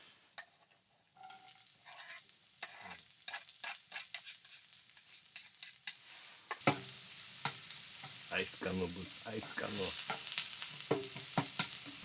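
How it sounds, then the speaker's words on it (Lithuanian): Onions and canned pork frying in a pan while being stirred, crackling sizzle with scraping utensil strokes that grows louder and busier halfway through, with occasional talk mixed in. "Kepsim svogūnus ir konservuotą kiaulieną."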